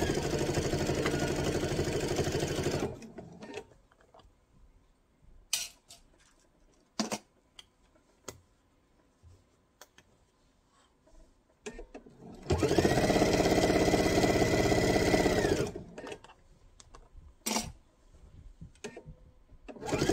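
A sewing machine stitches down the sides of a mesh tote bag in two loud sustained runs, one at the start and one midway, with quiet handling clicks and fabric rustles between them.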